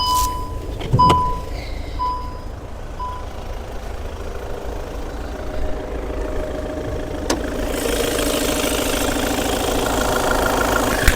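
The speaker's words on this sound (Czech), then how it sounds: "Poslechneme si motor." A 2021 Škoda Octavia Scout engine idles steadily, with a few electronic beeps early on, then a click as the engine noise grows louder and closer.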